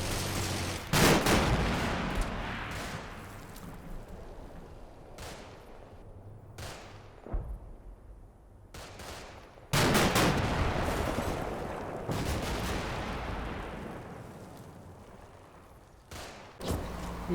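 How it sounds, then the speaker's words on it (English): Cannon and machine-gun fire from a BMP infantry fighting vehicle in the Combat Mission wargame, shooting at a high-rise in a village: loud repeated bursts and sharp blasts with ringing decays, spread across the clip with short lulls, no voices. "The BMP moves into the village and opens fire on the high-rise building."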